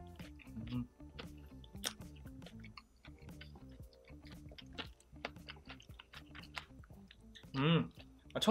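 Close, steady chewing and crunching while eating spicy Korean steamed seafood (haemul-jjim) with Cheongyang chili peppers and chili powder, soft mouth clicks and bites repeating throughout, with a louder burst of crunching near the end.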